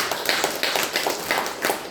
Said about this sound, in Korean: 다시 한번 크게 영광의 박수를 하나님께 올려드리겠습니다.